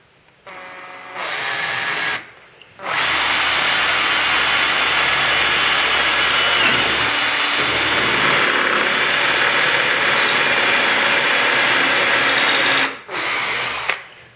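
A power drill whirs up and runs steadily at high speed for about ten seconds while drilling into wood, loud and close, with short starts and stops at either end.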